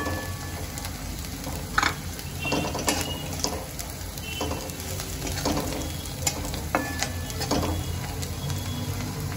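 Semolina for upma stirred and roasted in oil in a pan: quiet sizzling under repeated scraping strokes of a spoon against the pan, irregular and close.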